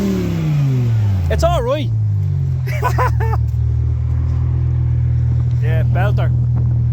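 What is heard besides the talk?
loud modified car leaving with exhaust pops and bangs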